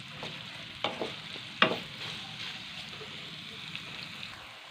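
Onions browning in a pan over a high flame on a home stove give a soft steady sizzle, broken by a few sharper scraping stirs near the start, with no voices.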